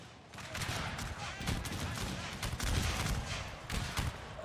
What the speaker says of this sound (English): Meanwhile, the artillery duel is still going on